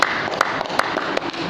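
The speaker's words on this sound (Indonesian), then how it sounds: "Tepuk tangan buat Tuhan." Church congregation applauding at a worship service, a short burst of steady, moderately loud clapping with sharp hand claps standing out in a regular beat.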